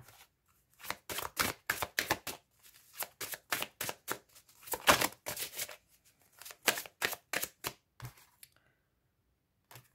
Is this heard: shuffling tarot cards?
yes